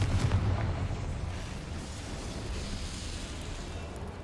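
A Confringo explosive spell goes off in the game Hogwarts Legacy, opening with a loud booming burst that fades into a long, rumbling tail.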